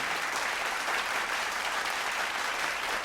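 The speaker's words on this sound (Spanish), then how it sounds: "Denle un aplauso a nuestro Dios" A church congregation claps in a loud, continuous, even wash of applause during a sermon, with no voices rising above it.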